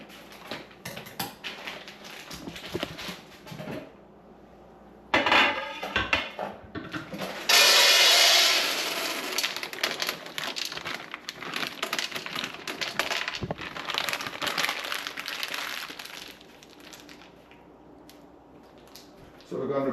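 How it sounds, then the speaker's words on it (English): Dried peas washed in a pot for Jamaican stew peas, with close sloshing, rubbing and clattering of water and peas in bursts, louder in the middle and fading toward the end, alongside some speech. "So we're going to be washing the peas,"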